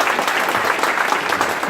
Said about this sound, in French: Je pense que vous pouvez l'applaudir aussi.